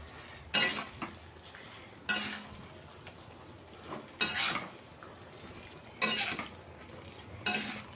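A utensil scrapes and stirs pointed gourd with spices in a heavy wok in five separate bursts, with a soft sizzle in the quiet gaps between them.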